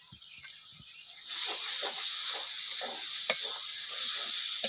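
Chicken pieces drop into spiced masala in a hot pan for an up-style chicken curry, and a loud sizzle bursts out and keeps hissing steadily, with a few stirring scrapes mixed in.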